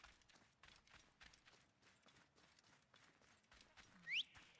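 A horse galloping in the video game Assassin's Creed Origins, a quiet rapid rhythmic drumming of hoofbeats that continues steadily, with a short sharp tonal sound near the end.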